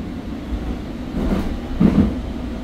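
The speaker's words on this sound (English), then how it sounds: "Train is departing." A Sacramento light rail Gold Line train departs with a low rumbling drone and a couple of louder wheel clunks as it pulls away, heard from on board without talk.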